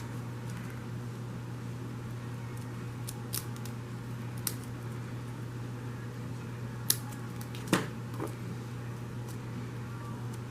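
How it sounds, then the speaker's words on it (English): Scissors trim paper for a starfish card craft, a few sharp isolated snips spaced out over a steady low electrical hum, close by and with no speech. "And then I'm just going to trim it."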